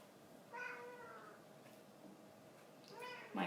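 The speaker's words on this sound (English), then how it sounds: "My cat is giving the soundtrack this morning" A domestic cat meows twice, indoors during a morning yoga session, faint and somewhat distant, with quiet room noise between the calls.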